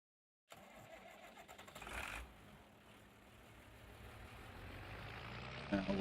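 Tractor engine starting in the video game Farming Simulator 25: an abrupt crank and catch, then a steady mid-pitched idle that slowly builds, heard alone without talk.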